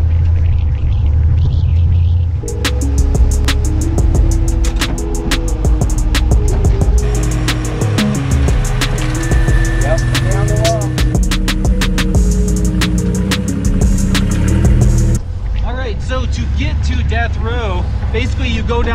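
A 4x4 rock crawler lumbers over a bumpy broken-rock road, its loud, steady low engine rumble continuous throughout with clattering knocks and jolts from the rough surface.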